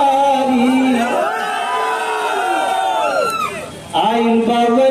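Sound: crowd clapping and cheering at election rally

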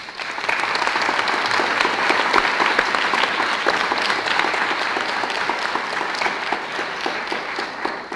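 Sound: audience applause for Rabbi Lippman and the community

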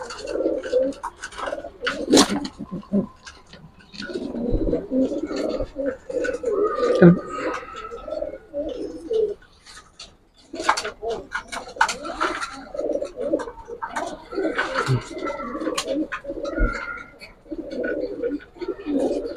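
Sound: racing pigeons cooing

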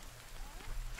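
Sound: rain in the video game The Forest

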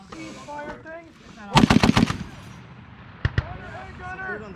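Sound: M2 .50 caliber machine gun firing

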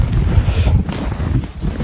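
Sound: wind

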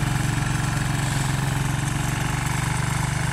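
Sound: tractor with snowblower attachment running

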